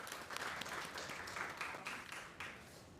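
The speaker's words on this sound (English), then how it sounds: "Let's give her a warm round of applause." An audience at a literature event at a school of languages gives a round of applause, a quiet, dense patter of many clapping hands lasting a few seconds at a distance.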